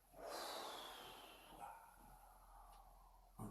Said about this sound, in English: Exhale down.